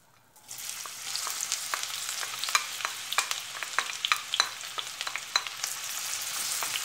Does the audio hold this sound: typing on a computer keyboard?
no